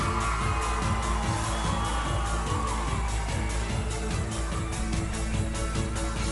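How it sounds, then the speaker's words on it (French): A crowd at the crowning of a beauty pageant in Païta, New Caledonia, keeps up loud, dense applause with whoops and yells, continuous and close throughout. "Sous un tonnerre d'applaudissements du public, en folie ici à la Reine du Sud de Païta."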